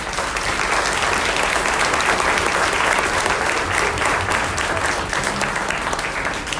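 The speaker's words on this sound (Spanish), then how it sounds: "quiero que con un fuerte aplauso se den la más cordial bienvenida" Loud, steady applause from a conference audience welcoming the speakers at a Day of the Dead talk, a dense unbroken roar of clapping hands with no speech over it.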